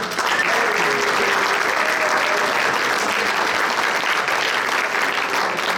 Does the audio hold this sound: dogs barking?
no